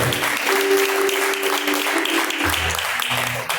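A congregation claps steadily during a lively Pentecostal church service, dense applause filling the room while a low sustained tone and brief voices sit underneath.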